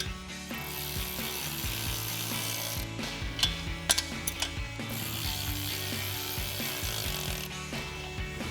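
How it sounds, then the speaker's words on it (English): A 13mm socket and ratchet wrench tighten a lock nut on a Jeep Wrangler hard top remover, with steady ratcheting clicks and a few sharper clacks partway through. "take your 13mm socket and wrench,"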